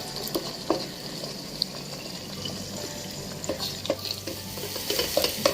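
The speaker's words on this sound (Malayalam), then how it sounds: "മുട്ട ഇങ്ങനെ ഒഴിച്ച പാടെ നമ്മൾ പെട്ടെന്ന് ഇളക്കി കൊടുക്കാൻ പാടില്ല." Egg frying in a pan for fried rice, a soft, close sizzle with scattered clinks and scraping stirs, fairly quiet and continuous, busier toward the end.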